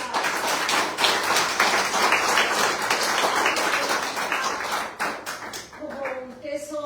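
Audience applause welcomes a guest writer at a reading-and-learning workshop, dense clapping lasting about five seconds before a voice begins speaking over the tail.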